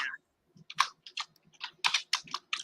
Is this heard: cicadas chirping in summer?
no